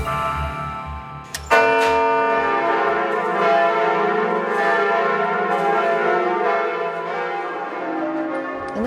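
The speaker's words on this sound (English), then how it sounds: "Notre Dame's bells rang out again." A large Notre Dame cathedral bell peals loudly after a soft opening, its rich ringing tones sustaining and overlapping with no voices present.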